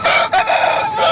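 A rooster brought from Coimbatore or Palani crows at the Nellore Sunday poultry market, one loud, close, drawn-out cock-a-doodle-doo heard alone.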